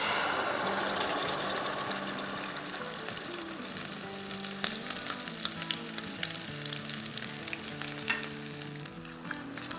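Caramelized semolina halwa bubbles and sizzles loudly in a pot on the stove while being stirred continuously, with a steady hiss, frequent pops and a low tonal hum underneath.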